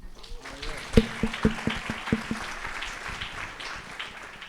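Sparse, scattered clapping from an audience at a conversation event, a few sharp claps standing out early before thinning into light, uneven patter with some voices murmuring underneath.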